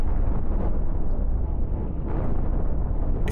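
Missile launches and blasts in the space game Cosmoteer form a dense, continuous roar of rumbling explosions with surging bursts, loud and sustained with no clear gaps.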